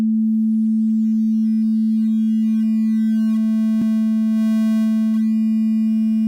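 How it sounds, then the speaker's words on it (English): A steady low sine tone drones continuously with bit-depth quantization distortion adding a ladder of buzzy harmonics above it, plus a couple of brief clicks near the end. "The higher up we go, the more we're distorting the signal."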